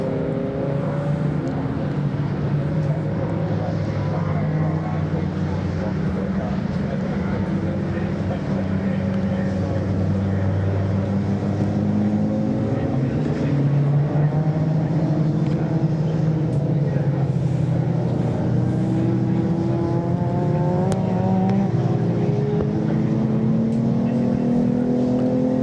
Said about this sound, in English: Steve Walden's BMW at the back, the E30